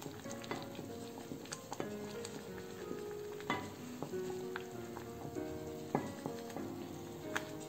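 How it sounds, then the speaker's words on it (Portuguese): Sugar-free apple jam with a dessert spoon of coconut oil begins to boil in a Visions glass pot, a soft close bubbling and sizzle with scattered small pops, quiet and without speech. "Agora começou a ferver, eu coloquei uma colher de sobremesa de óleo de coco"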